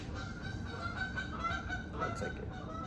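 Several geese honk repeatedly nearby, overlapping calls continuing throughout over a low rumbling background.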